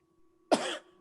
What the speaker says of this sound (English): Got a wicked cough.